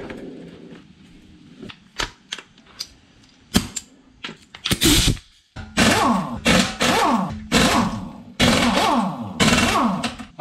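A pneumatic impact gun removes the wheel lug nuts on a C7 Corvette raised on a garage lift. It fires in short rattling bursts, sparse at first and then longer and louder, close by with no talking.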